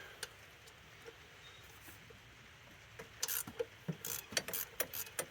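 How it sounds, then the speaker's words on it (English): A hand ratchet removes two long bolts from a Dodge Ram 3500 engine during throttle body and intake work, giving quick bursts of sharp metallic clicking in the second half after a quiet start, close and clear with no talk. "I'll go ahead and take these two really long bolts out."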